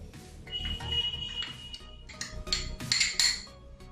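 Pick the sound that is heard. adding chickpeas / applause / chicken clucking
adding chickpeas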